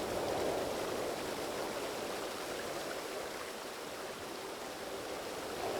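Continuous flowing water near a waterfall in a fantasy video game, an even, dense rushing hiss that stays steady from start to finish with nothing else audible.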